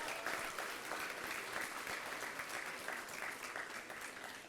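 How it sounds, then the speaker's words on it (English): Sustained applause from an audience at an elementary school anniversary event honoring school staff, a dense steady clapping throughout with no one speaking. "So if we could just give them a round of applause."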